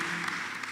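Congregation at a Kikuyu church service clapping, a dense, steady burst of applause filling a brief moment.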